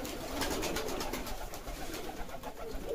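Pigeons coo at a pigeon farm, soft repeated low calls overlapping in a continuous murmur with faint background hiss.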